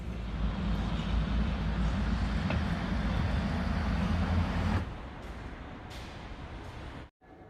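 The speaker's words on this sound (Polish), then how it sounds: "Jestem na dworcu" A loud, steady rumble of a train fills the air at a railway station in Kaunas, Lithuania, then drops to quieter station ambience with faint hiss and scattered distant sounds.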